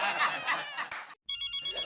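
A telephone rings at home in a comedy scene, the bell trilling loud and close in steady bursts before a brief silence, then ringing resumes with a voice speaking over it.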